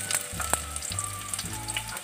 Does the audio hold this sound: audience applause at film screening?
no